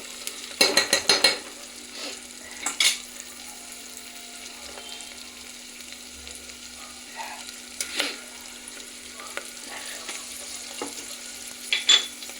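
Carrots fry in a pan for poori curry while being stirred, making a soft sizzle under a few scraping and clattering stirs, quiet overall with no talk.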